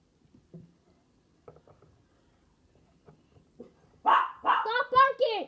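Pet dog Cosmo gives a rapid run of close, loud barks at the end, after soft scattered tapping and faint indoor noises.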